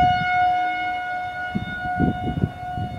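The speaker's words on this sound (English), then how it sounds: "This is coming from the tornado siren in Deerfield Township," A tornado siren in Deerfield Township's Cottel Park sounds during a monthly test, a steady tonal wail heard from a distance outdoors, alone with low rumbling background noise.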